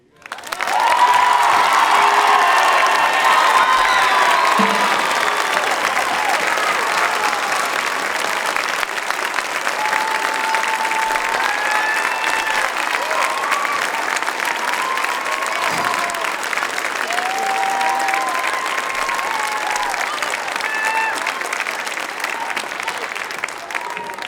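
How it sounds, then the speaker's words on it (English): A concert audience at an indoor marching band show applauds and cheers for a long-serving band director, steady dense clapping with scattered whoops and shouts holding loud for over twenty seconds. "let's give one big round of applause for Mr. Steve"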